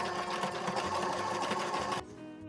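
A sewing machine runs steadily, stitching a second seam about 2.5 cm above the first to form a drawstring channel, a continuous close mechanical whir for two seconds before stopping abruptly.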